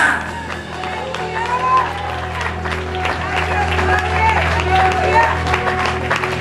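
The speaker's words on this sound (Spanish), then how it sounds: "Por favor, déjenles de aplaudir." A church congregation claps and cheers in a dense, loud wash of applause, with a voice speaking and shouting over it.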